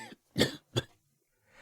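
A woman coughs while performing a scene in a narrated reading: two harsh, close coughs in quick succession, with a softer breath at the start and end.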